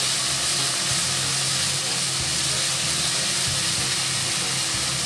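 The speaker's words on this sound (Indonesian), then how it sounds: "Nah ini kita tumis." Seasoning sautéed again in a pan for Indonesian beef meatball semur, a steady broadband sizzle and hiss running close and unbroken throughout, with a low rumble beneath.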